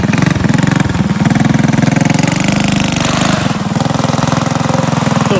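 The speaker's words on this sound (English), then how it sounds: "turn that key and hit the choke and send it" A drift trike's small engine, started with a key and choke, runs loud and close with a rapid steady putter that dips briefly before settling back into a continuous rhythm.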